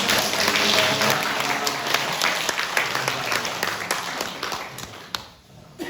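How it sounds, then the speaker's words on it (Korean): A church congregation at a Sunday Easter service claps in welcome for visiting travelers, a dense, loud wash of applause that thins and fades toward the end with a few scattered claps. "우리 여행 오신 분들을 위해서 환영하며 박수합니다"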